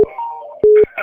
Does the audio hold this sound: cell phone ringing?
yes